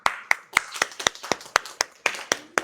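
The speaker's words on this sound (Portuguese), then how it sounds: "Uma salva de palmas, gente" Students in a biochemistry class clap their hands in a loose, uneven round of sharp claps, about a dozen distinct hits over a few seconds, close and fairly loud.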